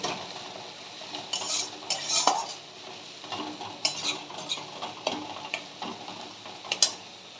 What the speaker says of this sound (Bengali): আমি গ্যাসটাকে সিমে রেখে এই মশলাটাকে কুক করে নেব।